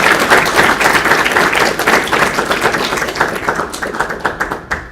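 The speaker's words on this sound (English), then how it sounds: "if we could just give him a quick round of applause" Audience applause at a talk about unknown objects in the sky, a dense, steady burst of clapping that thins out toward the end.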